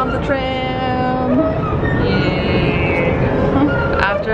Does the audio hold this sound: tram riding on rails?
yes